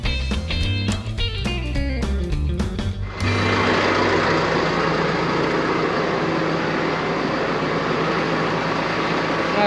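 A truck reversing to hook onto a homemade generator trailer gives a run of repeated beeps, which stops about a third of the way in. A steady, broadband engine rumble and noise follow, close and continuous.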